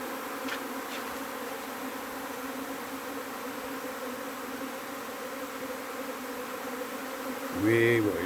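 Honey bee swarm buzzing as a dense, steady drone at close range, with a brief louder buzz near the end as a bee passes close by.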